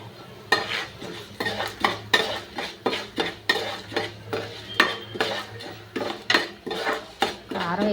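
Dried red chillies stirred in oil in a pan, a metal spoon scraping and clinking against the pan in steady repeated strokes, close and fairly loud, with a faint sizzle underneath.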